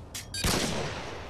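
Gunshots in a shooter video game crack out in a quick burst, two short sharp reports followed by a louder blast that lingers briefly.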